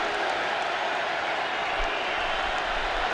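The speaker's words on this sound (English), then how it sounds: "These Titans fans are on their feet cheering on the defense." Crowd of Tennessee Titans fans cheering at an NFL football game against the Indianapolis Colts, a steady broad roar filling the stadium throughout, loud and continuous with no distinct claps standing out.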